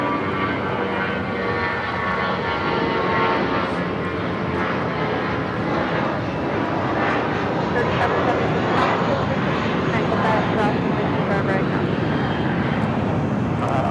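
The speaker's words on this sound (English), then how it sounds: "This is United Airlines 2696 taking off to Seattle on the A320." United Airlines flight 2696, an Airbus A320 bound for Seattle, takes off from Los Angeles airport with a sustained, loud engine roar throughout and a person talking over it.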